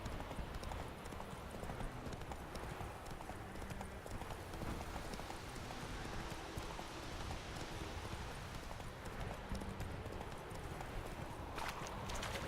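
Steady horse hooves in The Witcher 3 clip-clop at a trotting pace over a constant rain-like wash of noise, continuous and fairly close throughout.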